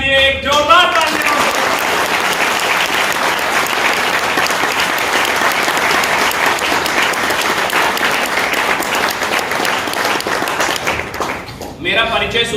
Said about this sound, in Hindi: इसलिए एक जोरदार तालियां